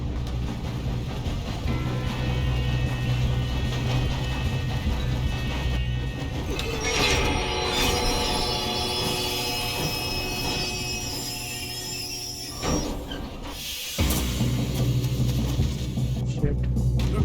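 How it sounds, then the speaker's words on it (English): A train running on rails in the Red Dead Redemption 2 video game, a continuous loud rumble with rattling wheels and metallic squeals, under voices and a sharp crash near the end. "We have to stop this train."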